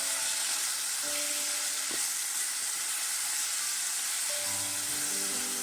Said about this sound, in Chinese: 再放入切好的胡萝卜，把粉条也加进来，继续翻炒均匀。